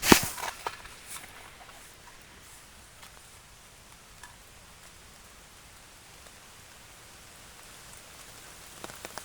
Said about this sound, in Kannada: ಏ ಮಳೆ ಬಂತಪ್ಪ